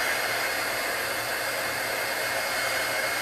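Dryer blowing hot air to dry wet paint on a craft project, a steady loud whooshing hiss throughout with no breaks and no talk.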